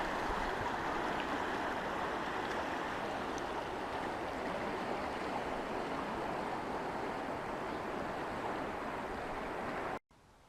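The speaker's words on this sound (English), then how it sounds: "water running around here. Sounds real pleasant." Running water of a stream beside a river trail in Dinosaur National Park near the Green River, a steady close wash of flowing water that continues evenly for ten seconds before cutting off abruptly.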